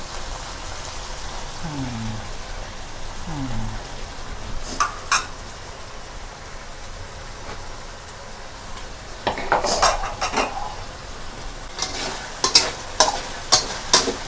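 Frog meat stir-fries with holy basil, dried chili, kaffir lime leaves and fish sauce in a hot pan, giving a steady close sizzle broken by bursts of scraping and clattering as a utensil tosses and stirs the food.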